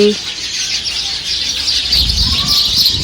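Sparrows chirp busily in a neem tree nearby over a steady background hiss, their calls overlapping in a constant twittering.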